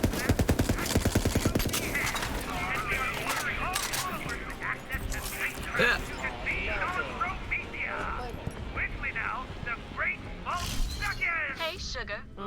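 Rapid automatic gunfire from a Borderlands-style shooter game, bursts of shots rattling steadily at first, then scattered clattering shots mixed with game sounds and some talk over the top.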